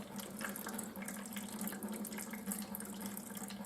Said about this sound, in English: drain a little bit out of the bottom till the water drains out and then tighten it back up